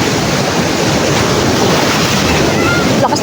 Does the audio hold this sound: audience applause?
no